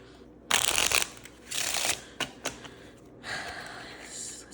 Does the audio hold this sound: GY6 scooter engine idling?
no